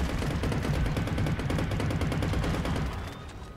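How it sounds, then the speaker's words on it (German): Rapid automatic gunfire in the video game Depth, a whole magazine emptied in one continuous fast burst of shots lasting about three seconds before cutting off. "Ganzes Magazin rausgeschossen."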